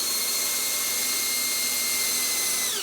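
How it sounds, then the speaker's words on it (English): A drill whines steadily at high speed while boring a pilot hole into lumber, a continuous sharp motor tone that holds for nearly three seconds, then dips slightly at the end. "What can be done is to drill a pilot hole in the second piece of lumber"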